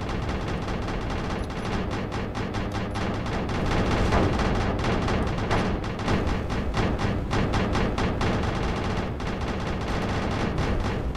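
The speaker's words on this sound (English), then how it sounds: "Fire all cannons at once!" Ship cannons fire in the space combat game Space Engineers, a dense, continuous barrage of overlapping booming blasts and thuds that stays loud and steady throughout.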